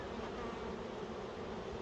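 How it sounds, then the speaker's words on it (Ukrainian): A continuous close buzzing of honey bees at a hive being packed for winter, droning steadily throughout with no other sounds. "Якась чорна бджола залетіла"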